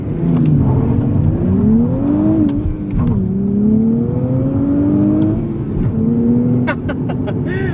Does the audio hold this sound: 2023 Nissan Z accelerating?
yes